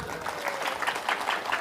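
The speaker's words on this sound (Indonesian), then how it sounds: "Tepuk tangan, tepuk tangan" Audience applause at a religious talk, a brief burst of dense clapping with rhythmic surges, moderately loud and a little distant.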